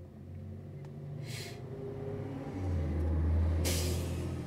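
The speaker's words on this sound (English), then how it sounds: "That was the bus in which I said we were waiting for." A bus arriving at a stop, low engine rumble rising as it pulls in, with two short hissing bursts of air brakes heard from close by.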